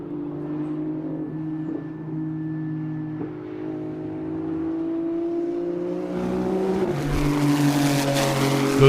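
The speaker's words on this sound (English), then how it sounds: "Those of you wondering who's in that Porsche Turbo S right there, that's Mr. Ray Guerrero." A Porsche Turbo S race car drives a time attack session at Road Atlanta, its engine holding a steady drone that swells louder and harsher toward the end as it passes near; no one speaks.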